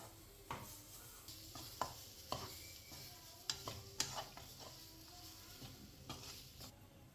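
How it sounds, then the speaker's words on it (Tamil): A spoon scrapes and stirs grated coconut in a hot pan with a light sizzle, irregular scraping strokes recurring every second or so. "நான் துருவின தேங்காயும் போட்டு நல்லா கிண்டிக்கிறேன்"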